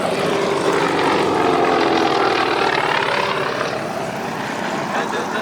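Propeller warbird aircraft taxi past at an airshow, a loud, close, steady droning engine and prop thrum that swells slightly as they pass, with voices talking underneath.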